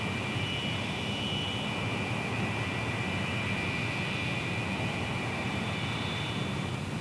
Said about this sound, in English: Because of the inefficiency of jet engines at low air speeds, the plane requires a considerably longer ground roll.